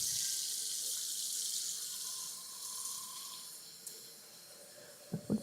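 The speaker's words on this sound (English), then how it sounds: "So let me fill up a pot." Water runs steadily from a kitchen tap into a pot, a continuous broad hiss that fades slightly, ending with a couple of light knocks.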